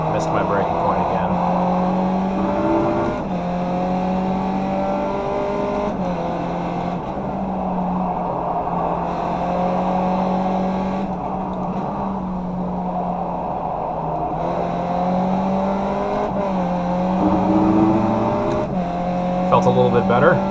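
A Skip Barber race car in iRacing laps Circuit Park Zandvoort, its engine droning continuously with rising and falling pitch through upshifts, downshifts and braking, loud and close, while someone talks over it throughout.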